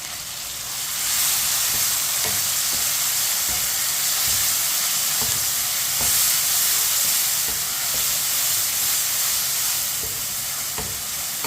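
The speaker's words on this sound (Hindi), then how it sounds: "टमाटर और सब्ज मिर्च को मैंने मिक्स कर लिया।" Chopped tomatoes and green chilies stirred in a frying pan with browned onion and garlic, a steady loud sizzle with repeated soft scraping strokes of the spoon throughout, no voices.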